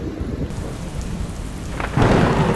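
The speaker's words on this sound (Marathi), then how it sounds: "काय खतरनाक वीज पडली" Heavy monsoon rain pours steadily throughout in Satara, and a loud crack of a lightning strike's thunder bursts in near the end, close and powerful over the downpour. No one speaks.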